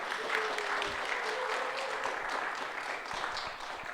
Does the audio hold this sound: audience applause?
yes